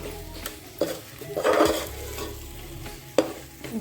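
Crabs sizzle and fry in hot oil with chili in a pot, with a utensil stirring and scraping against the metal in close, irregular strokes.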